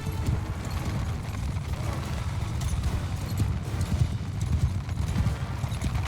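Steady galloping hoofbeats of a noble horse ridden in the video game Mount & Blade II Bannerlord, a fast continuous clip-clop close up with battle noise faintly underneath.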